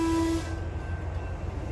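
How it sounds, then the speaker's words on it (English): A train passes a railroad crossing, a steady horn tone fading out after a brief blast over a low rumbling drone. "At the same time, there's a train going through the crossing"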